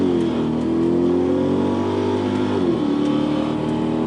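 An Infiniti Q45 engine revs hard from inside the car, its tone climbing steadily, then dipping briefly at a gear shift before pulling up again, loud and continuous.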